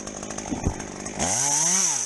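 A chainsaw engine revs up loudly midway, its whine rising and falling as the throttle is worked, after a stretch of idling rumble, during tree care work.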